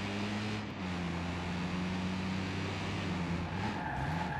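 Car tires skidding under a hard handbrake pull in Watch Dogs 2: a sustained tire squeal over a steady engine drone, loud and continuous throughout the short clip.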